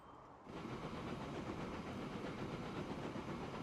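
A train in the Transport Fever game rumbles steadily after a sudden start, a continuous close, loud rolling noise with faint rail clatter and no talk.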